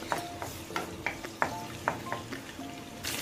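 Cinnamon, cloves and cardamom being stirred and lightly fried in oil in a kadai, a soft sizzle under regular spoon scrapes and taps against the pan.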